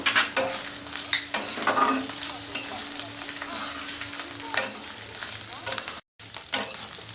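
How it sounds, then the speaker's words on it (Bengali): Coconut pieces with a pinch of turmeric frying in a pan for Bengali-style chana dal crackle and sizzle close up, with stirring scrapes and brief spatula knocks, and a short break near the end. "নারিকেলটা জাস্ট রং হবে সুন্দর করে লাল লাল করে ভেজে নেব"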